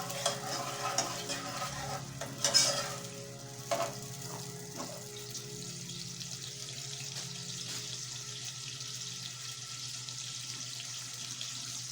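Garlic and onion fry quietly in cooking oil in a pot over low heat, a soft steady sizzle with a few louder clinks and stirring scrapes near the start, no one talking.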